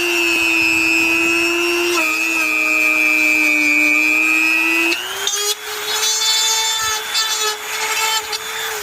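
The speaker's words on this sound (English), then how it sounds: "I just, you know, started cutting with my Dremel" A Dremel rotary tool with a cutting attachment whines at a steady high pitch as it cuts through a car intake part on an Infiniti, then its pitch dips and wavers while the cut finishes.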